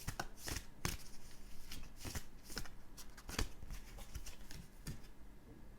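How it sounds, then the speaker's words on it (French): Tarot cards being shuffled and drawn, with a rapid series of papery riffles and snaps close by, several sharper slaps standing out, and no talking. "Je vais tirer encore une dernière carte."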